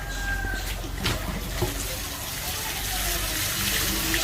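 Water gushes steadily from a tap in a continuous rushing hiss that holds for several seconds, with a faint voice in the background.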